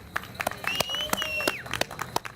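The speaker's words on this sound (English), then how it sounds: "let's give it up one more time for Taniya Miller, a soloist." Scattered claps and cheering from an outdoor crowd at a downtown Christmas parade in Jackson, with irregular hand claps and a few whistles over street background.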